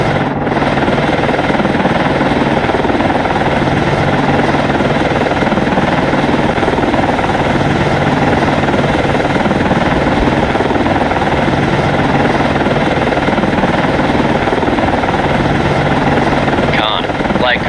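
Helicopter in the naval submarine game Cold Waters, a loud constant rotor drone and engine hum throughout, steady and close, with radio-style speech over it.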